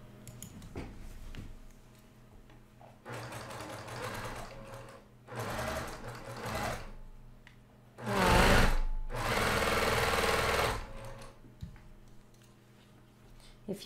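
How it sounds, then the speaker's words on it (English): Sewing machine stitching quilt pieces for a star sampler quilt, running in several bursts of steady whirring that grow louder and longer toward the end, with quiet gaps between runs. "And I'm gonna go sew that baby."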